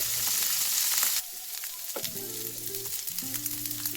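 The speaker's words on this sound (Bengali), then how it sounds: "একটা ছোট সাইজের ফুলকপি একদম ছোট্ট ছোট টুকরো টুকরো করে কেটে নিয়েছি সেটাকে একটু ভেজে নেব" Small cauliflower pieces fry in white oil in a pan, giving a loud, steady sizzle that drops slightly in level after about a second and then crackles on evenly, with no voices.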